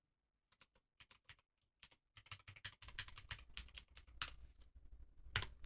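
Someone types a password on a computer keyboard: quick, irregular key clicks close by, sparse at first and then denser, ending with a firmer keystroke.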